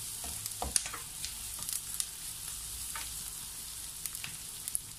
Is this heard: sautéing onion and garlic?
yes